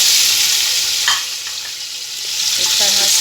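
Beef hitting hot oil in a pressure cooker sizzles loudly and continuously, with stirring and a brief dip before the frying swells again; a voice speaks briefly.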